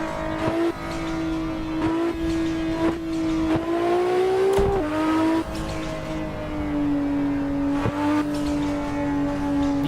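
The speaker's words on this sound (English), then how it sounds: "I can listen to this car all day" A 1000-horsepower car in the Assetto Corsa racing game drones and revs steadily under load, its loud, sustained engine tone rising and dipping through gear changes with brief sharp shifts, close and continuous throughout.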